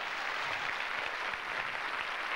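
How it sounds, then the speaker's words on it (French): Studio audience applause on a French television variety show, a dense, steady wash of clapping held at a constant level throughout with no voices on top. "on applaudit très fort, s'il vous plaît, mesdames, messieurs"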